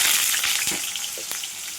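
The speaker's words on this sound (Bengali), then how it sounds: "এখন আমি আলু ফুলকপি ছেড়ে দিব" Potatoes and cauliflower fry in oil with cumin in a wok, a close, bright continuous sizzle with soft stirring knocks and no talking.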